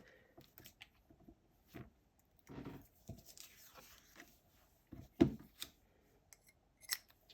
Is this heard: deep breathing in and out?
no